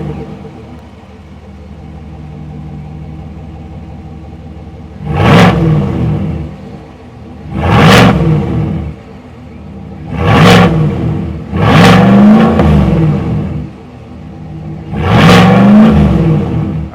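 A 2025 GMC Sierra 1500 AT4X with a naturally aspirated 6.2-liter V8 and active exhaust blips its throttle five times over a low idle, each rev a loud, rising roar that quickly falls back.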